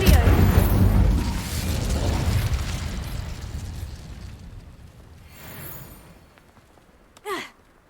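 Incendio fire spell cast in Hogwarts Legacy, a loud whooshing burst that fades over several seconds, followed by a short sharp magical flick near the end.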